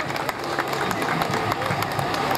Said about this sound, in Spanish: Aplausos también para él